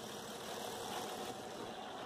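A John Deere 4430 tractor engine idles steadily after an oil change, a constant mid-pitched rumble heard up close with no voices.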